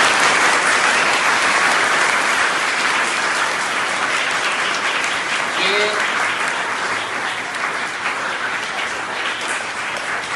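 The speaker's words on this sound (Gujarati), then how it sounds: "આપણે જોરદાર તાળીઓ સાથે વધાવજો ભાઈ" Loud, dense applause from students and teachers at a school Guru Purnima gathering, with clapping sustained and steady for about ten seconds and easing slightly near the end, with voices faintly mixed in.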